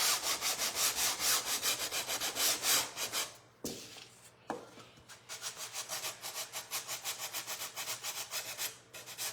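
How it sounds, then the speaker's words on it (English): Hand-sanding a wooden bird hotel, the sandpaper rubbing in close, steady back-and-forth strokes that break off briefly twice before resuming the same even rhythm. "Just making sure that this is good and sanded."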